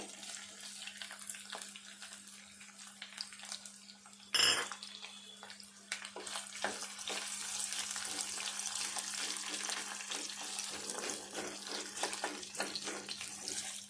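Onion pieces frying in a pan for a curry, giving a continuous hissing sizzle that fills the whole stretch, briefly broken by a sharp clatter near the start, with no voices.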